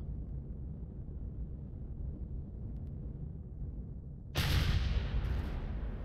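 Rockets launching in the space survival game Empyrion: a steady low rumble breaks into a sudden loud, broad whooshing blast that keeps roaring, with a second burst close behind.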